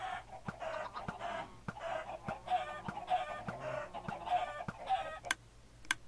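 Chickens in the Minecraft video game cluck repeatedly in short bursts, fairly quiet and close, with sparse clicks between calls and no talk.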